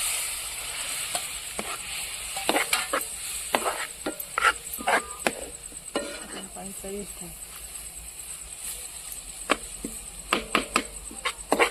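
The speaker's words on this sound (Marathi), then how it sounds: "तर थोडा टाकला पाणी त्यात" Water splashed into a hot frying pan of Konkan-style tempering, giving a steady sizzle with scraping stirs and light clinks, under occasional background voices.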